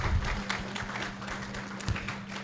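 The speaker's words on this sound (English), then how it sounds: "I think that deserves a round of applause." Audience applause at an International Women's Day 2024 event, a fairly faint, diffuse patter of clapping in a room with a low steady hum underneath, lasting a couple of seconds.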